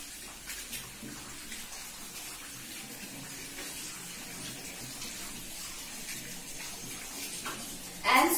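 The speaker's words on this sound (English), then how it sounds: "rinse truly with water" Tap water runs steadily into a sink while hands are rinsed, a continuous close stream with a brief louder splash near the end.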